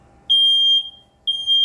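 A smoke alarm sounds two loud, piercing electronic beeps, each about a second long and separated by a brief gap, close by and alone.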